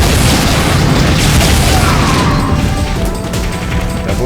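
Loud, dense blasts and crashing booms from grenade explosions in the Unreal multiplayer video game, filling the whole stretch with heavy rumbling impact noise and no talk.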